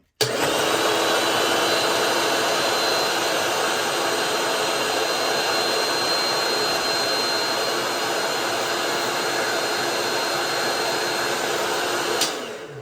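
A Presto Salad Shooter electric slicer runs steadily while shredding onions, giving a loud, continuous high-pitched motor whine that starts abruptly and holds level for about twelve seconds before winding down.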